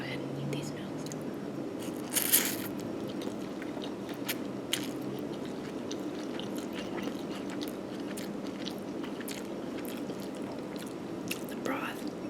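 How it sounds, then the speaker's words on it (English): Pho noodles are eaten close to the microphone, with soft wet slurps, chewing and small bites scattered across a quiet background, and a few faint whispered words. "I'm just going to go ahead and eat these noodles."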